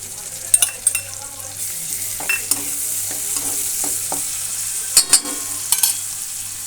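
Small chopped tomato pieces go into a frying pan for a salan, and a soft sizzle follows with scattered clinks and scrapes of a spoon stirring, fairly close and moderately quiet.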